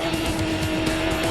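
A Champ Car race car at night qualifying in Cleveland under light towers, its engine screaming at high, steady revs, loud and close throughout with no voices.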